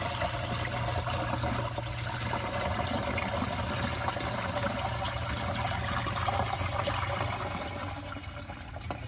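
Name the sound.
water being poured into pesticide mixture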